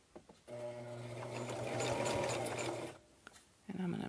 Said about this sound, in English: so I can sew down the edge here